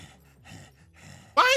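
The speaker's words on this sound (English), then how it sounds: "Why are you breathing like that?" Heavy, rhythmic breathing from a character in Final Fantasy 7 Remake, several soft panting breaths in a row, ending in a sudden louder burst of sound.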